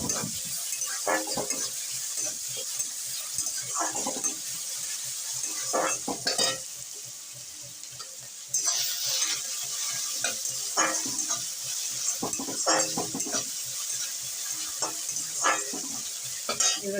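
Onion, ginger and garlic sizzle and fry steadily in a pan for a healthy vegetable and chicken soup, with a spoon scraping and stirring in repeated bursts close by.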